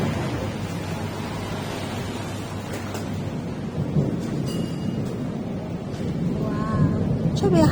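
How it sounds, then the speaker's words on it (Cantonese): Thunder rumbling and rain falling outside during a storm, a steady, dense wash of noise with deep rolling swells throughout, heard from indoors near a pet turtle enclosure. "出邊行雷落雨哦"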